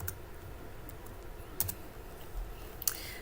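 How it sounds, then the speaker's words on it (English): A few quiet keystrokes on a computer keyboard, soft irregular clicks with a couple of sharper taps, heard alone over faint room noise. "So I'm going to type landscape."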